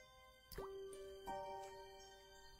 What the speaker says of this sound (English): The drip sound effect.